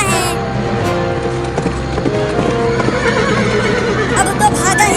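A horse neighs and whinnies amid steady clip-clopping hooves in a busy, loud outdoor scene in a desi comedy sketch, with some talk mixed in.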